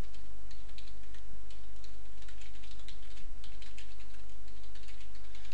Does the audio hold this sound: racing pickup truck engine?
no